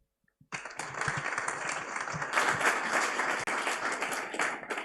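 After a brief hush, an audience at a green biotech showcase bursts into sustained applause, many hands clapping together in a full, even roar that swells slightly and carries on to the end.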